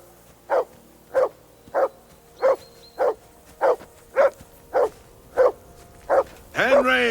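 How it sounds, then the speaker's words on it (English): A dog barks in Kingdom Come Deliverance II at a riverbank camp, ten evenly spaced woofs about every half second, fairly close and loud, followed by a burst of higher yelping at the end. "Whistle at that mutt of yours to stop barking."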